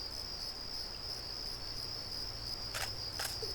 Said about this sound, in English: Those insects are pretty loud. Crickets.